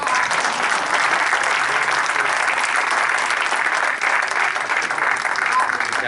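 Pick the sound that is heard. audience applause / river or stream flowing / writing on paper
audience applause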